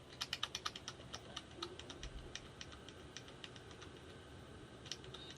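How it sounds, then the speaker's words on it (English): Keys on a Dell OptiPlex computer keyboard are tapped in a quick run of crisp, close clicks at the start, followed by sparser irregular presses, faint and without talk. "we're going to again hit F12 on our keyboard one more time"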